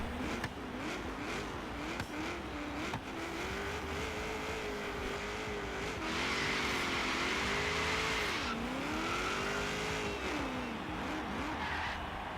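A Chevrolet Camaro Z28's LS V8 engine roars and revs in Forza Horizon 3, its pitch rising and falling through gear changes, with tire squeal mixed in and no talking.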